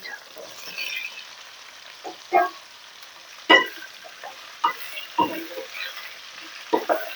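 Onions frying with ginger, garlic and green chilli in a pan, a faint sizzle broken by several spoon scrapes and clinks at irregular intervals, close by.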